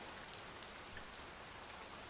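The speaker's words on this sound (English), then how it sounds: "I know it's currently raining" Steady rainfall in the survival video game Oceaneers, a soft, even hiss of drops on surfaces throughout, fairly faint and without voices.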